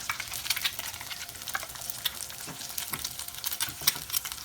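Eggs fry in a pan with a continuous crackling sizzle, steady spitting and popping close by, with no voices.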